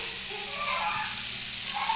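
Boiled cowpeas (bobbarlu) sizzling in a frying pan, a steady close hiss of frying with faint crackle throughout the short stretch.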